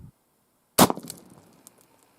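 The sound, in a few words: 357 Magnum gunshot into steel-toe boot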